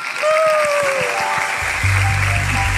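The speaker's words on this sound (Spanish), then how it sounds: "Fuerte el aplauso, muy bien." Studio audience applause on a Colombian live talk show, a dense steady wash of clapping that fills the whole moment, with a few voices and low rumble mixed in near the end.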